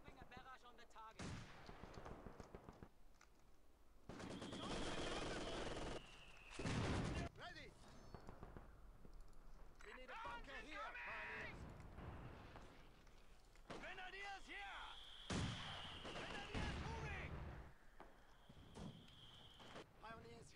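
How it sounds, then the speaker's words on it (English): An artillery barrage in Company of Heroes 2 brings heavy, booming blasts and bursts of gunfire in several loud clusters, mixed with battle noise and voices talking. "Dropping a barrage on the target."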